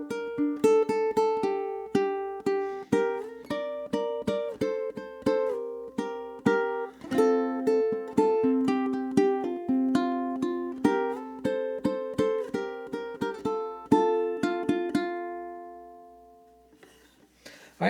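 Two ukuleles play a duet passage of measures 13 to 16, with bright plucked notes in a steady, busy rhythm over about fifteen seconds before ringing out and fading, with a faint rustle at the end.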